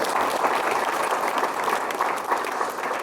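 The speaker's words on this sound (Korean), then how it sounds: "그럼 박수 한번 보내주시죠" Audience applause during an invited guest lecture to Seoul city council staff, a full steady round of clapping from a room of listeners that stays even and fairly loud throughout.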